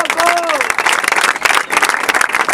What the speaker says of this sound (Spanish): Así que un fuerte aplauso para esta premio